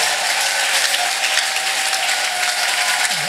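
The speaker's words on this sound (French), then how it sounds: "Acclamation." Sustained applause with cheering from a large crowd at a church convention, loud and continuous, with no one speaking over it.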